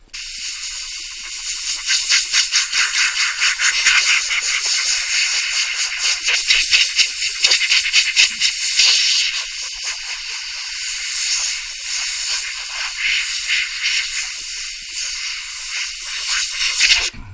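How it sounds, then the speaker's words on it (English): Compressed air hisses in a steady, loud jet as it clears wood debris off a guitar body during staining, with small flickers and surges in the blast but no break and no talking. "the minute I actually start with the compressor how it actually clears all the wood debris away"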